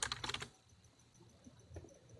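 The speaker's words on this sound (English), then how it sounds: "I'm gonna mute myself for now because I'm typing a lot." A brief burst of rapid computer-keyboard typing, quiet and close, is followed by faint scattered keystrokes against a low room hum during a live stream.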